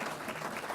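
A brief burst of dense audience clapping at a city law breakfast, a packed, continuous patter heard from a middle distance.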